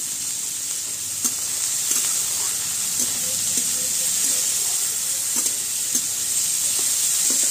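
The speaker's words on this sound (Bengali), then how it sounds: "ছোট ছোট আলু যেমন করে ভাজা করে ঠিক সেই রকম করে ডুমুর ভাজা হচ্ছে আজকে।" Small cut figs fry in a pan like diced potatoes with salt and turmeric, giving a steady close sizzle and hiss with occasional stirring clicks and scrapes throughout.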